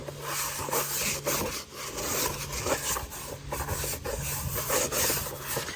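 A stiff brush scrubs a dirty floor mat with cleaner, rough back-and-forth rasping strokes in an uneven rhythm, close and fairly loud with no talk over it.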